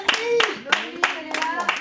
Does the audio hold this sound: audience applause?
yes